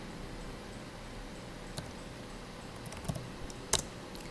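A few scattered keystrokes click faintly on a computer keyboard as a short terminal command is typed, with quiet gaps between the taps and a sharper final press near the end.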